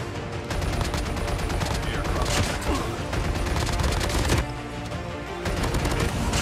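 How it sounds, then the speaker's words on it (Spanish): Rapid bursts of gunfire in Call of Duty, an AK-47 among them, dense crackling shots firing almost continuously at close range, with a sharp loud crack near the end and brief pauses between volleys. "me estaban disparando por la espalda"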